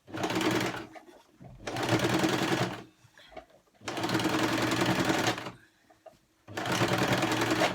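A sewing machine stitches a leather-topped plastic bottle organizer in four loud, close bursts of rapid rhythmic clatter separated by short pauses, with faint sounds in the gaps.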